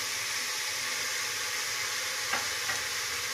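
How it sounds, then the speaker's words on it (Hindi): Red chili powder, garam masala, coriander powder and salt frying in a pan for urad dal and potato curry, a steady close sizzle with a couple of brief scraping stirs near the end, no voices. "अब सभी मसालों को भून लेंगे"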